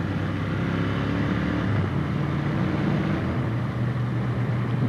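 A Royal Enfield 650 twin cruising in sixth gear, giving a steady, even engine drone mixed with constant wind rush, loud and close without a break.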